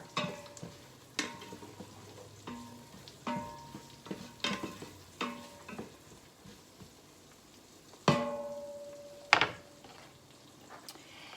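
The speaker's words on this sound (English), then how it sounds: "Give that a stir." Creamy tortellini vegetable soup being stirred in a pot after Italian seasoning is added. A spoon scrapes and knocks against the pot in irregular, close strokes, with a soft simmering sizzle underneath and a couple of sharper metallic clanks.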